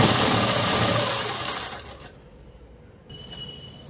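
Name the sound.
sewing machine stitching a garment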